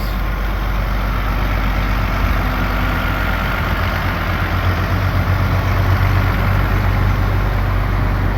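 An International Harvester 1440 combine engine that has sat unrun for 11 years idles with a little blow-by, giving a steady, loud, low rumble that holds even throughout with no talk.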